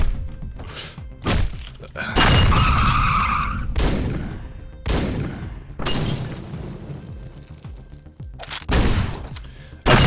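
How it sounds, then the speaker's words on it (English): Car tires screeching in the top-down action video game Hotline Miami, with repeated loud bursts of skidding mixed with crashes and gunfire-like impacts, recurring every couple of seconds. "I just like hearing his car screech over and over again"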